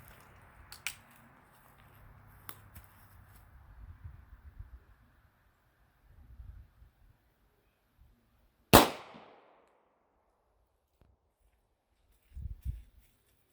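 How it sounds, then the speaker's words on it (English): A single sharp gunshot from a Sig Sauer P250 firing 40 caliber full metal jacket rounds at an old front door stands out loud and close, with faint handling noises before it and a softer thump afterward. "we're going to be using the standard regular ammunition full metal jacket for this. But we're going to do it from a Sig Sauer P250."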